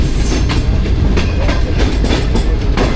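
Pak Business Express train running on the rails between Karachi and Lahore, a loud steady rumble with repeated clickety-clack wheel beats roughly every half second, close and continuous with no talk.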